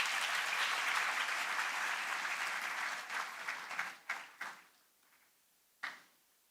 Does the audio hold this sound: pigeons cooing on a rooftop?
no